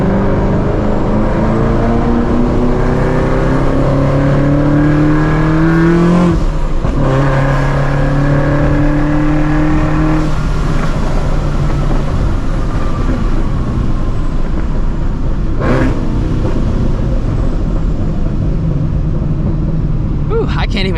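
A supercharged Ford Shelby GT350 of about 700 horsepower accelerates hard, engine note climbing through several gear pulls with a rising whine, loud and close from inside the car amid traffic.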